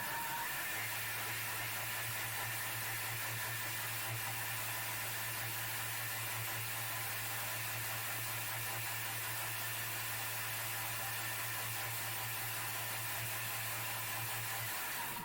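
A Thermomix runs at speed 6, mixing a sticky sauce for chicken drumettes with orange segments, giving a steady low motor hum and faint whirring that holds evenly for about fifteen seconds before stopping, with no talking.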